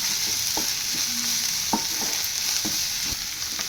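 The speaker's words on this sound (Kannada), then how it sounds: "ಇದು ಸ್ವಲ್ಪ ಹಸಿ ವಾಸನೆ ಹೋಗೋವರೆಗೂ ಹುರಿಬೇಕು" Onion and ginger garlic paste fry in a pan under a constant loud sizzle, with repeated scraping and clicking strokes of a spatula stirring at an uneven rhythm.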